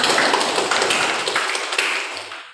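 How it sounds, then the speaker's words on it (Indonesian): Students in an Indonesian primary-school classroom applaud two classmates: a dense burst of close clapping that holds steady, then thins and fades out at the end, with no talking over it. "Berikan tepuk tangan untuk Reni dan Azena."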